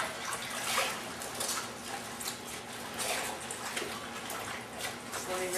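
Collard greens are rinsed under running tap water, producing a continuous splashing flow with irregular bursts as the leaves are handled, close and moderately quiet.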